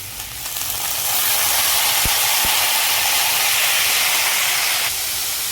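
Carrot pieces fry in a pan over a medium-low flame, giving a steady, loud sizzling hiss that holds throughout, with a couple of brief clicks partway through.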